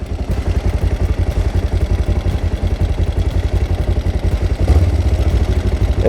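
A carbureted Kawasaki GPZ 500S twin-cylinder motorcycle engine runs steadily on a wet day, a close, even, throbbing idle that pulses without a break and rises briefly in a small rev near the end.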